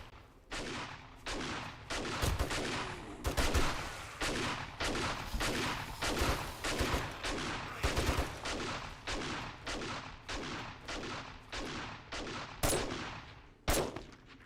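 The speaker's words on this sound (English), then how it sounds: "I'm going in with the shotgun" A shotgun fires again and again in the zombie survival game 7 Days to Die, with sharp, loud blasts about every half second in a long, steady run and no talk over them.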